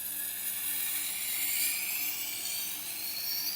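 A Tormek sharpener's wheel grinding a kitchen knife on a Kangaroo Tail rig gives a steady, high whirring hiss that holds at an even level throughout, close up, with no voices.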